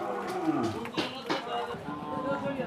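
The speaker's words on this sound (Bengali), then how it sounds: "দেখেন একটা গরু এই গরুটি হাঁপাচ্ছে" A large cow pants heavily nearby at a cattle market in Lalmonirhat, Bangladesh, rough breaths mixed with low, droning groans that rise and fall.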